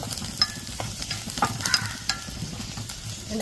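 Cashew pieces and coconut bits frying in a pan with a steady, close sizzle, broken by scattered stirring scrapes and light clicks.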